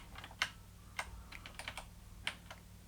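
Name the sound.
pressing keys on an Atari Mega ST computer keyboard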